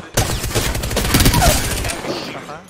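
Rapid automatic gunfire in the shooter game Apex Legends, a loud close burst of shots lasting under two seconds, with excited gamer voices faintly mixed in.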